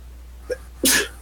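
A single sharp sneeze, close and loud, comes right after a short intake of breath, in a quiet room.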